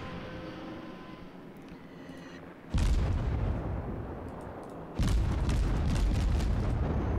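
Naval gunfire aimed at the player's warship in World of Warships: two heavy, rumbling blasts, the second a couple of seconds after the first, each hitting loud and then rolling on as a sustained roar, with no talk.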